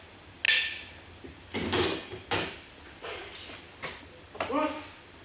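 Hammer blows ring out while a wooden scaffold is put up on a theatre stage: about half a dozen separate knocks and creaks, moderately close, spaced irregularly over several seconds.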